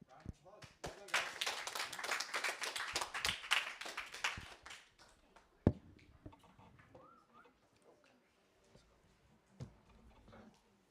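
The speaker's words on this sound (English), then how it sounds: "All right, round of applause." A small group applauds after a capstone project presentation, a few seconds of scattered clapping from a modest audience that quickly fades into quiet room noise with occasional taps, and speech mixed in.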